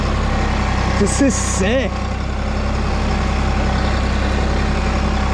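A Mahindra tractor engine runs in four-wheel drive with a loud, steady low diesel drone close by, while someone briefly speaks over it early on.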